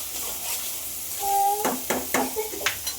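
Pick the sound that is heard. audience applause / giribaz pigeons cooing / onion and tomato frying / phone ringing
onion and tomato frying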